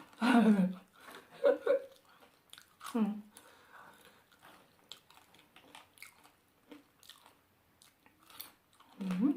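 Crisp bites and crunchy chewing of deep-fried food that was fried a month ago and has stayed crispy, several close, fairly quiet crunches spread across the clip, with soft talk and chuckling between them.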